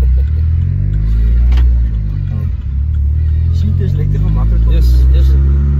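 A hybrid-turbo Opel Corsa OPC holds a loud, steady engine rumble throughout, with a brief dip near the middle, close and dominant, with voices under it.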